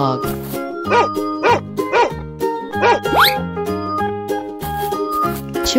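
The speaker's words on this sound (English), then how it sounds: "Dog." Cartoon dog barks in a few short, bright yaps over a busy, steady children's music track, with a rising whistle-like sweep partway through.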